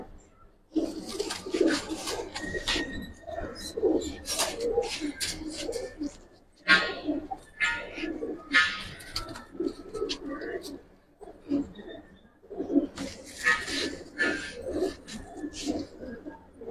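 Flying Giribaz pigeons in a loft during rain, soft repeated cooing and low burbling calls close by, heard under ongoing conversation between men.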